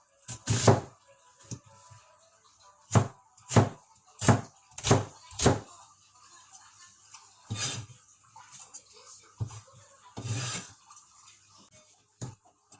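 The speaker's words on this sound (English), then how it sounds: "Cut onion in small pieces." Knife chopping onion into small pieces on a cutting board, a set of sharp regular chops near and clear, then sparser knocks and clinks, with no talking.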